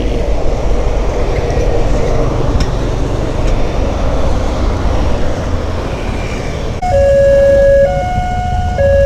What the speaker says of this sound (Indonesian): Kita menanti kereta lewat dulu masih.